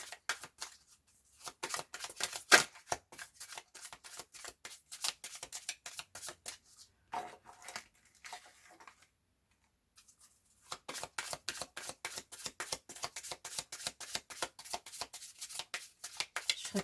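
Oracle cards are shuffled by hand for a reading: repeated quick papery riffles and slaps in a steady rhythm, close and fairly soft, with a short pause midway before the shuffling resumes.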